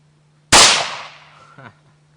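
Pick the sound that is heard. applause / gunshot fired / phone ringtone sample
gunshot fired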